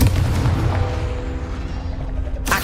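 A Confringo fire spell explodes in Hogwarts Legacy, a loud sustained booming rumble that rolls on for over two seconds before a sharp new burst at the end; no talking.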